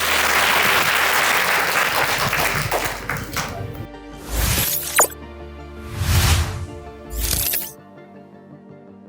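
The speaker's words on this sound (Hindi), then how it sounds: "इसमें आप अपने लिए ताली बजाओ" An audience at a motivational talk on emotions and behaviour claps for themselves. The sustained clapping dies away after a few seconds and is followed by a few separate louder bursts of noise.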